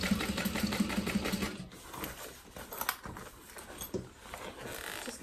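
A sewing machine top stitching through a single layer of vinyl on a zip tote bag, a close steady whir of rapid stitches that slows and stutters with mechanical clicks toward the end.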